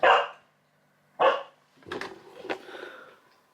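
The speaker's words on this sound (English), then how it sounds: "midway through his biscuit he'll start barking" A dog barks indoors while finishing a biscuit: two sharp, loud barks about a second apart, followed by a rougher run of yapping barks, each burst standing alone with quiet gaps.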